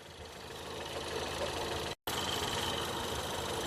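A 2015 Ford Escape 1.6 turbo engine that is losing coolant runs under an open hood, a steady mechanical drone that builds slightly in loudness and cuts out for an instant near the middle.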